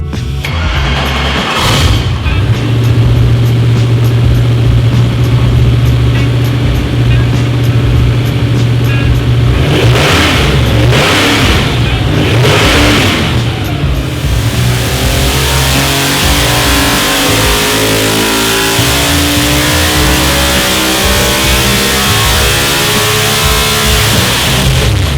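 A car engine revs hard on a chassis dyno inside a performance engineering facility, the loud sustained roar climbing and holding with several surges before a broad rushing noise takes over in the last ten seconds.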